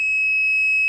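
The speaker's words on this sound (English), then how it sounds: "using a multimeter, we're going to put it on the continuity setting. So if we touch the two leads together," A multimeter on its continuity setting gives a steady, loud, unbroken electronic beep as its two test leads touch, sounding close and alone for under a second.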